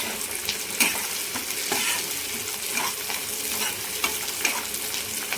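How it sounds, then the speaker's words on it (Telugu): Curry leaves dropped into hot oil with tempering spices and chana dal for mango pulihora, sizzling and crackling steadily with a few sharper pops and occasional stirring. "కరివేపాకు వేస్తున్నాం కదండి, అది కూడా వేగుతుంది కదా"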